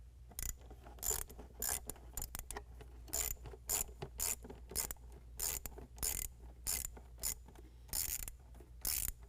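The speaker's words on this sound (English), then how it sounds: "now we're going to go ahead and loosen up our hose clamp at our throttle body using the same 7mm" A 7mm ratchet loosening the hose clamp at the throttle body of a 2022 Chevy Silverado 1500 6.2L V8, repeated rapid clicking bursts in a steady back-and-forth rhythm, close and alone.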